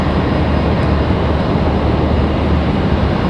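An Embraer E190 airliner on arrival from Burlington at Raleigh-Durham airport gives off a loud, steady, broadband engine roar that holds evenly from start to finish.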